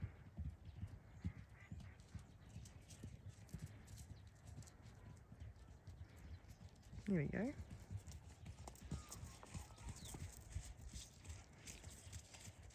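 A horse trots along under clip-clop hoofbeats that run steadily throughout, with a brief whinny-like burst partway through and a person speaking over it.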